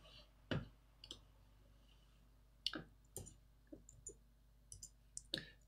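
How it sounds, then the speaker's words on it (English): An unexplained strange clicking noise, sharp isolated clicks arriving at irregular intervals, some in close pairs, fairly faint against a quiet, low background hum. "I don't know what that strange clicking is."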